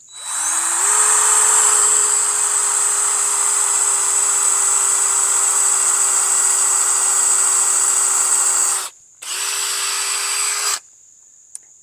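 Power drill boring holes into a log for mushroom plugs, a loud, steady high whine that runs for about nine seconds, cuts out briefly, then resumes for a shorter second burst before stopping, with no talking.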